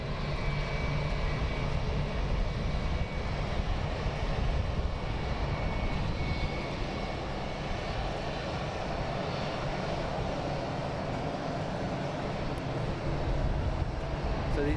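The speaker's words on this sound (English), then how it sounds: "So the Wizz Air is now taxiing in" Wizz Air airliner taxiing in at London Luton Airport, a steady broadband jet engine roar holding at a constant level throughout, moderately near with no talk.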